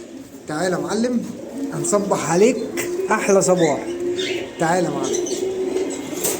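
Young pied green pigeon squab cooing close by, with soft wing flaps, while someone talks over it nearly the whole time.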